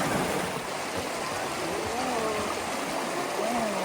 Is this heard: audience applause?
no